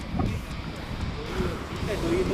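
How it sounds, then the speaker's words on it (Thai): Strong wind on a city street in Sukhumvit 24, Bangkok, buffets the microphone with a steady, dense low rumble that fills the whole stretch. "อุ้ยลมแรงมาก"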